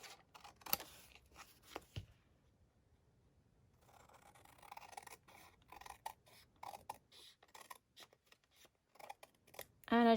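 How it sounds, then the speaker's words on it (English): Scissors cut around a paper journaling card made from die-cut negatives, leaving a border: a quiet, close run of crisp snips and paper rustles, some singly and some in quick clusters, with no speech. "I'm just going to quickly cut around here, leaving a border."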